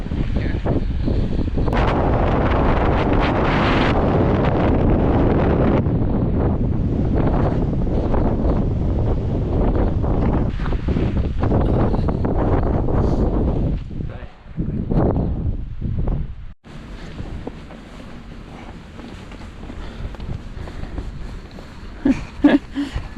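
Strong wind buffeting the microphone at the Grand Canyon, a loud roaring rush for most of the stretch that then drops off to quieter gusts with faint rustling.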